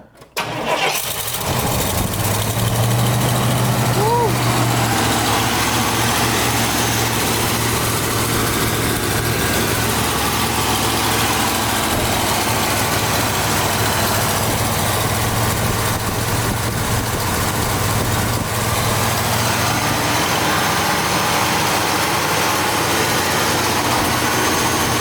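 A 1980 Buick Riviera engine, just after a valve gasket replacement, catches and settles into a steady, loud idle close by, running on without a break and with a faint, rough unevenness.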